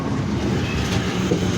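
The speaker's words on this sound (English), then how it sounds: "coming in from Redditch to Four Oaks with the 1227 West Midlands Railway service to Four Oaks is 323241" A West Midlands Railway Class 323 three-car electric train rolls into the station from Redditch, giving a steady, loud rumble with faint wheel clatter throughout, with no voices.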